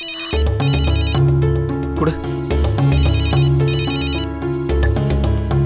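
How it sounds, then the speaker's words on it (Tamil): A mobile phone plays a looping electronic melody for an incoming call. It rings loud and steady through the whole stretch while a person speaks briefly over it. "மாமா ஃபோன் பண்றாரு"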